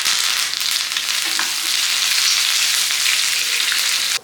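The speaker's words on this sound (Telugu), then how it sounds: "తాలింపు బాగా వేగిపోయింది కదా. ఇప్పుడు ఇందులో కొద్దిగా కరివేపాకు వేసుకోండి." Curry leaves dropped into hot tempering oil for gongura chutney, a loud continuous close sizzle with bright crackling that holds steady, then cuts off abruptly.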